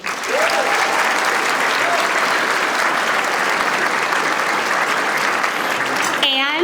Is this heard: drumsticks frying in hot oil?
no